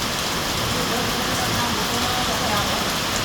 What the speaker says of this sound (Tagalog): Grabe, ang more than 1 hour ang ulan, napakalakas.